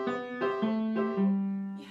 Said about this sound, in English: if you hear the marching music, which sounds like this,